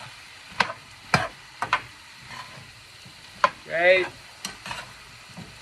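Shrimp and vegetables stir-frying in a pan, with a soft sizzle under repeated sharp clacks of a utensil tossing the food, close by; a voice briefly speaks partway through.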